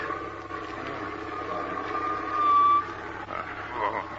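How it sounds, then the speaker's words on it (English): In a radio drama, a truck's engine drones as it brakes to a stop, with a thin squealing whine of the brakes rising briefly midway before the motor settles, moderately loud and without talk. "Now to stop this truck."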